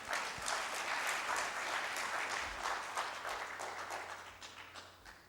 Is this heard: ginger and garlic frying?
no